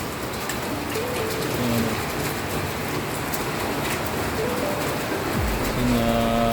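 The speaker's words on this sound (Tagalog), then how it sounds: "Humina ng ulan." Heavy rain in Cainta hisses on a surface with a dense, even patter. Faint traffic rumbles beneath it, and a bird calls in the distance.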